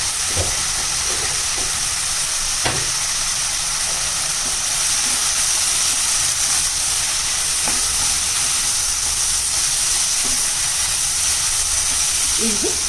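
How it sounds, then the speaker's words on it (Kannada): Food frying with turmeric powder in a pan gives a steady, close sizzling hiss with a few faint clicks and pops scattered through it, and no voices. "ಇದು ಚೆನ್ನಾಗಿ ಫ್ರೈ ಆಗಲಿ ಫ್ರೆಂಡ್ಸ್"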